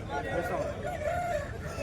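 A rooster crows at a busy hen market in Bhadradri Kothagudem, its drawn-out call rising over steady crowd chatter and nearby voices.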